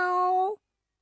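A single clear, tonal meow lasts about half a second, then cuts off into silence.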